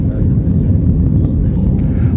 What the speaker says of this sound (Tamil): விமானம் ஏர்போர்ட்டை நெருங்கிருச்சு